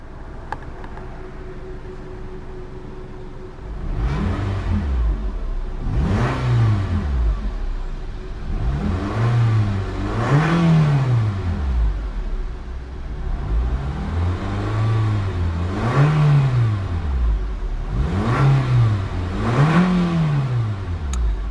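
A 2014 Nissan Juke 1.6 N-Tec engine starts up and settles into an idle, then is revved repeatedly in a series of rising and falling surges, loud and close with no talking.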